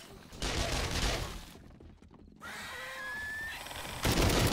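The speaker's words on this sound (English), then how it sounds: "What are you firing at?" Loud bursts of gunfire in the zombie survival video game 7 Days to Die, with a quieter stretch of other game sounds between the volleys.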